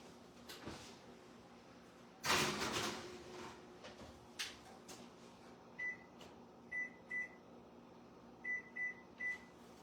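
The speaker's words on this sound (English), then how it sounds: "So I'm going to pop these in the oven. I'm going to set the timer for about 12 minutes" Pastries going into a kitchen oven: a door thuds and clatters shut, then several short electronic beeps come in pairs as a timer is set, quiet against a low hum.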